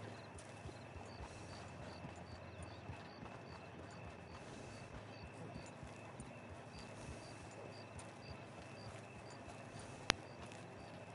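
Soft, steady clip-clop of horse hooves in the game Red Dead Online, a quiet rhythmic walking pace with a faint background hum and one sharp click near the end.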